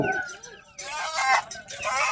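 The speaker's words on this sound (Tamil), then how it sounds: "எல்லாமே கிலோ கணக்கில் விற்கிற கோழிகள் இது சேவல்லாம் பார்த்தீங்கன்னா" Chickens clucking and a rooster calling amid a busy crowd at a Sunday chicken market in Erode district, India, with people chattering nearby throughout.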